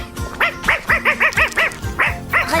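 A cartoon dog barks in quick repeated yaps, about ten sharp close barks in a steady rhythm with a short pause before the last few.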